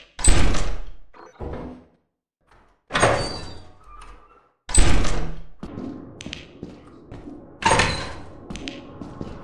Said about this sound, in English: open the door and scan it